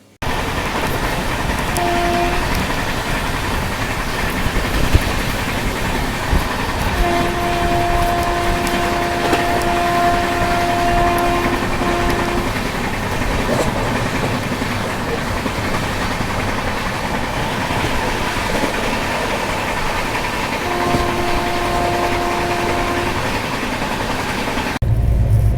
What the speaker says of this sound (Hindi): हमारी जो ट्रेन है काफ़ी मस्त रफ्तार में चल रही है